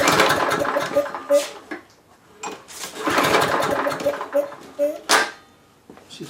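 A Briggs & Stratton Quantum lawnmower engine sputters in short bursts as it almost starts, the cranking rising and dying twice at close range with a voice talking between the attempts.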